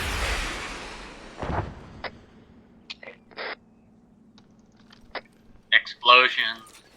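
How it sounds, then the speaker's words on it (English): Distant explosions rumble during a military convoy and close-quarters combat training exercise, with a broad blast at the start and another heavy thud a moment later, followed by quieter clicks, soft knocks and brief bursts of nearby voices. "Explosions."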